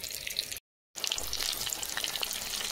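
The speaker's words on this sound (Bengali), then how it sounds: "এই যে ভাজা হয়ে আসছে" Ash gourd slices frying with prawns in a pan, a steady bright sizzle with a brief total silence near the start before the frying noise resumes.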